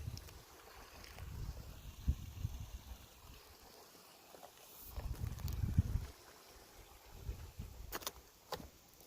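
Wind gusts outdoors in Bells Canyon come as low, rumbling buffets against the microphone, swelling and fading in uneven waves, with a quieter lull partway through.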